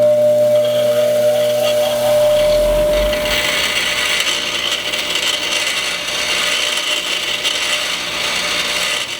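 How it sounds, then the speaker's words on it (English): A brake pad's metal backing plate pressed against a spinning stone grinding wheel, a loud continuous harsh grinding that follows a motor hum and carries on steadily, close up with no voices. "I'll get the brake pad, put it up on this side, and push it up right up to the stone wheel right here,"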